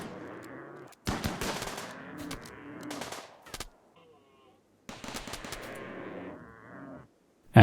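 Bursts of automatic gunfire from turrets and colonists in the game Rimworld: two long, dense rattling volleys separated by a short quiet gap, loud and close, with a final shot at the end.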